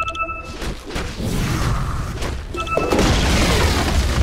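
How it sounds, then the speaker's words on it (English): A tower collapsing in Dota 2 gives heavy booming crashes with crumbling rubble, a first impact near the start and a louder, denser collapse rumbling through the second half, with short chime tones over the blasts. "Radiant's top tower has fallen"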